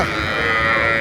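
A single cow lets out a loud, sustained moo close by at a rural cattle market in Dinajpur, filling the whole short moment.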